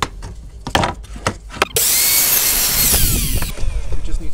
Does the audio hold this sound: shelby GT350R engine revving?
no